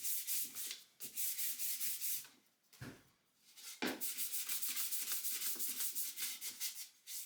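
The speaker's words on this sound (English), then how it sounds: "A quick 320 sanding once it's dried will ensure it won't do that again" Rhythmic hand sanding of a wooden board with 320-grit sandpaper, quick rasping back-and-forth strokes with a brief pause midway, close and steady.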